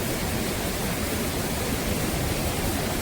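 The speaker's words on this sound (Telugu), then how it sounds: "ఇక్కడ ఒక చిన్న వాటర్ ఫాల్స్ ఒకటి కనిపించింది" A small waterfall in the hills of Chikkamagaluru, its water pouring down in a steady, dense roar that fills the whole moment evenly and close by, with no voices over it.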